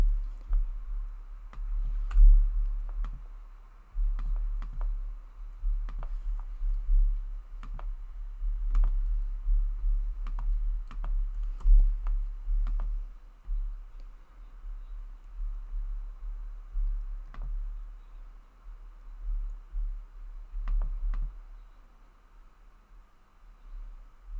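Scattered mouse clicks and keyboard taps sound close and dry while someone edits SEO settings and meta descriptions for a Hostinger website page, spaced irregularly over a steady low hum with no talking.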